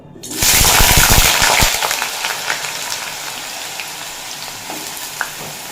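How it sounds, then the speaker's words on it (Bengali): Potatoes hit hot mustard oil in a wok with a loud burst of sizzling that starts about half a second in, then settles into a steady, softer frying crackle with scattered pops. No one speaks. "তেল গরম হয়ে গেছে দিয়ে দেব আলুগুলো"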